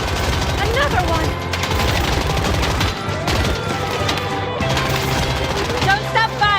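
Video game gunfire in a vehicle chase: loud, sustained rapid automatic bursts with booms and impacts, played continuously throughout and heard up close.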